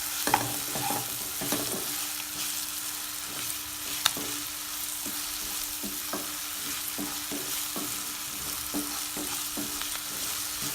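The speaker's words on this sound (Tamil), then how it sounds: "ஆட் பண்ணிவிட்டு இஞ்சி பூண்டு பேஸ்ட்டோட ரா ஸ்மெல் போகிற வரைக்கும் நல்லா ஃப்ரை பண்ணிக்கோங்க" Ginger garlic paste fries in a pan for a green peas kurma, giving a steady, close sizzle broken by frequent scrapes and taps of a spatula stirring it, with no talking.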